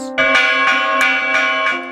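The historic Balangiga church bell rings out loud and close, its strikes repeating every half second or so, with each new peal layered over a long, bright, humming ring that never fully dies away.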